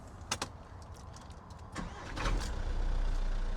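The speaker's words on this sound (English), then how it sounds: "Let's fire it up." A VW Crafter van with 97,000 miles starts up: a short cranking burst, then the engine catches and settles into a steady, fairly loud idle close by, with no talking.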